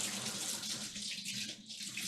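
Warm water runs steadily from a kitchen tap as buttery hands are rinsed under it, a continuous broadband splash and hiss that stays close and fairly even throughout, with no talking.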